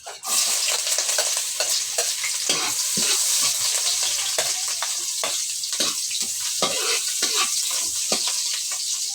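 Hotdogs fry in a pan with a steady, loud sizzle that continues throughout, broken by repeated scraping and stirring knocks from a utensil; no one speaks.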